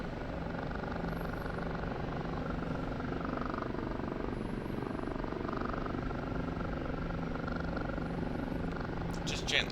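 An OH-58D Kiowa Warrior helicopter in the flight simulator DCS drones along with a steady rotor and engine hum at low level, continuous and even throughout.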